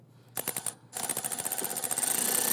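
A power tool tightening a bolt on a 2011-2021 Jeep Grand Cherokee during an ignition coil boot replacement, a short stuttering burst of hammering pulses, then a longer continuous rattling run that grows louder, close up.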